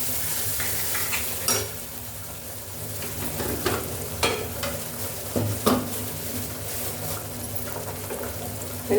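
Turmeric powder stirred into hot oil in a pan while cooking moong dal sambar, with a steady sizzle and spoon scrapes striking at irregular intervals, close and moderately loud, no voices.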